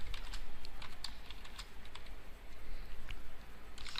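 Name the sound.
typing a command on a computer keyboard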